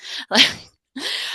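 A single loud sneeze rings out close by, a quick sharp inhale followed by the explosive burst, then a brief breathy sound after a short pause.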